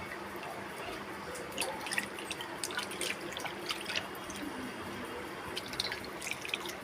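Water runs and drips steadily from a tap, with irregular splashes and small clicks as crabs are rinsed underneath it.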